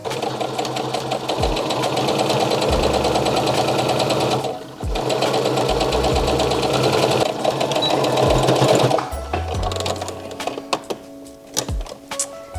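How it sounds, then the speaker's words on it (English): Sewing machine stitching a summer dress seam, a loud close steady whirr broken by brief pauses and a few thunks, ending in short stop-start bursts. "just sew it over that line"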